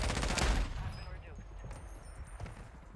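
An X13 Auto pistol in Warzone fires a rapid burst, loud and close at the start, then fades to scattered softer shots. A voice talks over the gunfire.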